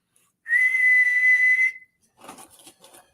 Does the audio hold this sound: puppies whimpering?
no